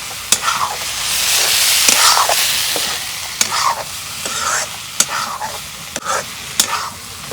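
Cumin and spices sizzling as they fry in a pan on a clay stove for egg curry, a loud steady hiss broken by repeated sharp scraping stirs of a spatula.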